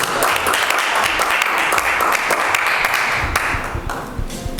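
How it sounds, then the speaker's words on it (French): Sustained audience applause at a religious gathering, dense and steady clapping filling the whole stretch before tapering slightly near the end. "On peut aussi applaudir, mesdames et messieurs."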